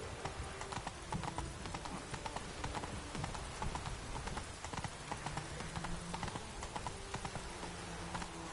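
Geralt's horse Roach trots in The Witcher 3 video game, its hooves clip-clopping in a steady, rapid rhythm over a dense ambient game soundscape, with no speech.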